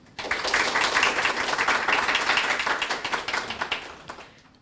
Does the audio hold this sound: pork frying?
no